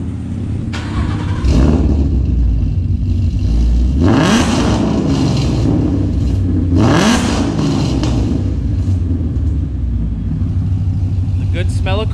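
A car engine runs loudly throughout, revving up sharply twice in big surges, with people talking over the steady rumble.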